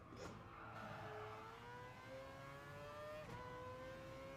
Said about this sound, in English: So we're driving a Mazda. Race car, obviously.